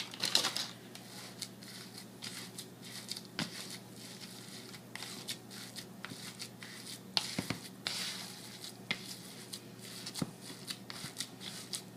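A stuffed salmon cake mixture is mashed and swished around in a bowl, giving soft irregular squelching and scraping taps, fairly quiet and close, with no one speaking.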